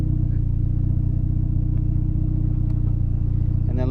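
A Mazda Miata, a roughly 300 horsepower build, idles and rumbles in a deep, steady drone close by, loud and continuous, with a slight shift in tone right at the end as it starts to pull away into a canyon.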